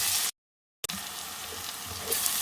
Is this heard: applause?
no